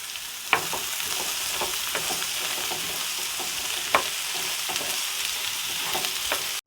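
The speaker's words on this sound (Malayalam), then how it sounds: "ആവശ്യത്തിന് ഉപ്പും ആവശ്യത്തിന് പെപ്പർ പൊടി ഇട്ട് നമുക്കിത് നന്നായിട്ടൊന്ന് മിക്സ് ചെയ്തെടുക്കാം" A tomato mixture with salt and pepper powder sizzles steadily in a pan as a spoon stirs it, with scattered light scraping clicks over the constant frying hiss, close and without talk.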